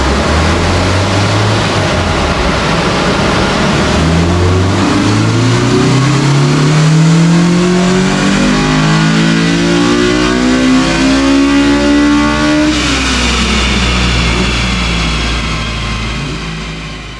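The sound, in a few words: Honda B18C engine revving hard on a dyno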